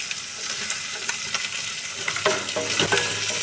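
Chopped onion and ginger go into a hot pan for tomato soup, giving a close, steady sizzle with scraping stirring strokes and no talking.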